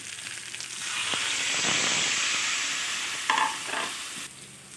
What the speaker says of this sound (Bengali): এবার আমি এতে অ্যাড করে দিচ্ছি আগে থেকে সেদ্ধ করে রাখা মুগ ডাল।